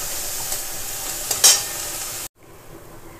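Taro leaves being stirred as they fry in a pan, with steady soft sizzling and a brief louder scrape of the spoon partway through, then quieter frying after a short break.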